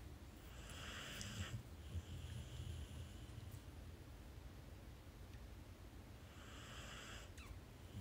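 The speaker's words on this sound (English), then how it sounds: "she is snoring slash breathing loud" A boxer pit bull's heavy, noisy snoring breaths with snorts, recorded up close in a quiet room, rhythmic raspy breaths repeating a few times.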